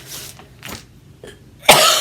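A woman coughing indoors, several separate dry coughs spaced apart, ending in a louder, harsher cough.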